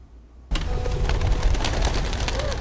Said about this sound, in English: 17 doves released as a community mourns and remembers the victims of the Parkland massacre